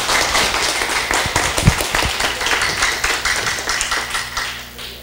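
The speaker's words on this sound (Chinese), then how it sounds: "请掌声欢迎" A classroom audience claps for a lecturer, a lively burst of many hands applauding together, steady at first and tapering off toward the end.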